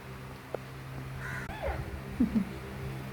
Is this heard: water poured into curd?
no